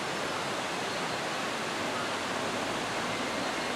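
The River Laxey on the Isle of Man rushes down through a steep little gorge, a steady, loud broadband roar of tumbling water that runs without a break the whole time.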